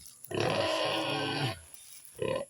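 A pig on a Philippine farm gives a long, loud, rough grunting squeal close by, followed after a short pause by a brief second grunt.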